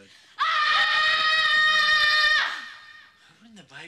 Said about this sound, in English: primal screaming is not ordinary screaming